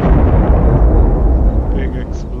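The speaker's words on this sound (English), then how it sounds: "Big explosion." A cruise missile strike detonates in Arma 3, a heavy rumbling blast with a dense low roar that holds steady and slowly fades over a couple of seconds.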